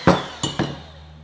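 Three quick clinks of a utensil against a bowl while egg and sugar are mixed for pumpkin cookies, sharp and close, then quiet.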